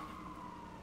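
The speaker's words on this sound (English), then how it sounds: "there goes Raphael with the sirens." An emergency vehicle siren wails faintly in the distance, a steady sustained tone carried over low background noise for a brief moment.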